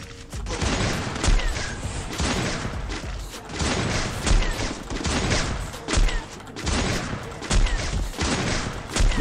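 Rapid bursts of gunfire crackle in repeated volleys, loud and continuous, like a shooting game firefight.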